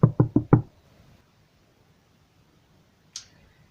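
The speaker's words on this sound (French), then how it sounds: "on frappa à sa porte" Four quick knocks on a door in an even, close rhythm, followed by a long pause and then a single faint sharp tap.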